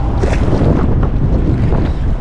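Strong wind buffets the microphone at sea from a fishing boat out on the water after a typhoon flood, a loud, continuous roar with waves and engine rumble mixed in throughout.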